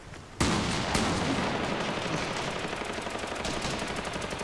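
Sustained automatic gunfire in the battle royale game Fortnite, a loud, dense stream of rapid shots that begins with a sharp burst and then rattles on without a break, and nobody speaks over it.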